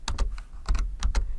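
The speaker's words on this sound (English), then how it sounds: "Notice here I'm typing, well, you can't see, but I'm actually typing the slashes" Keystrokes on a computer keyboard during data entry into an Access form, with slashes typed in a date field. They come in quick clusters of two or three sharp clicks separated by short pauses, close-miked, with no talking.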